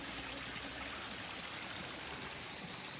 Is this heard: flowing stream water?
yes